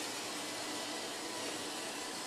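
A Roomba robot vacuum cleaner runs close by with a steady, loud broadband whir and hiss that holds unchanged throughout, with no talking over it.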